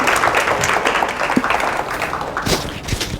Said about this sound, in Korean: 윤덕영 목사님 모시겠습니다. 박수 부탁드리겠습니다.